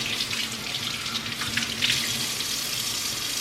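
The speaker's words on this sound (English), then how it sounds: "I'm just gonna go ahead and rinse the fish off." Water runs steadily from a kitchen sink tap as a fish, cleaned and scaled, is rinsed under it, a continuous close splashing hiss with small shifts as the fish moves through the stream.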